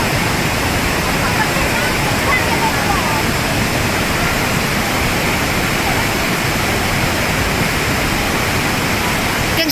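Cold lahar flood from Mount Semeru surging down a river, a loud, unbroken roar of rushing water and debris that fills the whole stretch.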